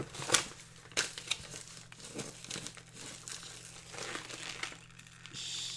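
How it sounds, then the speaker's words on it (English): Paper and tape being ripped and crumpled up close, in bursts of crinkling and tearing with short pauses, quiet and alone, no voices. "Just me ripping paper and tape."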